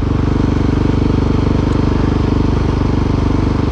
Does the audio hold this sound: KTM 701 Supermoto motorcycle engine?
yes